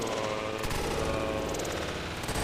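Sustained automatic gunfire in Halo: Reach multiplayer on Sword Base, a dense, continuous rattle of shots layered with game ambience, loud and unbroken throughout.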